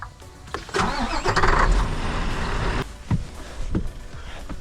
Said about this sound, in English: So, the mess is gonna start the truck now.